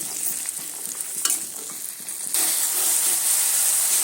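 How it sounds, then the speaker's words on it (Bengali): Green peas frying in a pan while being stirred, with scraping and clinks over a sizzling hiss that grows louder and steadier partway through, and no voices. "প্রথমে মটরশুঁটিটা ভালো করে একটু ভেজে নিচ্ছি"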